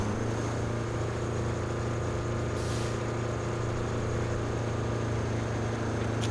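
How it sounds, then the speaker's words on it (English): A steady, droning vehicle engine in the construction game RoadCraft, a constant low hum with a brief hiss partway through, continuous and unchanging in level. "You can hear the different sounds of the engine"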